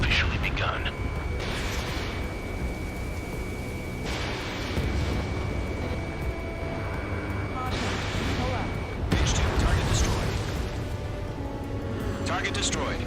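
Anti-aircraft guns fire in Ace Combat 7, a dense, continuous roar of rapid bursts and explosions that surges louder in waves, with voices speaking over it.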